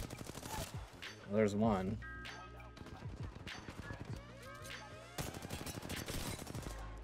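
Rapid bursts of video-game gunfire crackle through the clip, sometimes in quick volleys, mixed with game effects and music under excited players talking over one another.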